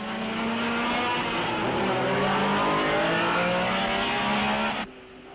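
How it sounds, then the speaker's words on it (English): A 1960s Porsche race car at the Spa-Francorchamps Belgian Grand Prix howls loud and close, its engine note sweeping and shifting pitch for nearly five seconds before cutting away abruptly to quieter background. "This is Joe Bonnier's Porsche, never far away from his teammate Dan Gurney."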